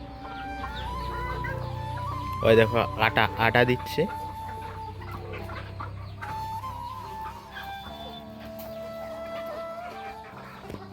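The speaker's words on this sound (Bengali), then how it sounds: "এগুলো দেশি মুরগি" Native country hens cluck and chatter steadily close by, with a short burst of rapid, loud squawks early on while someone talks over them.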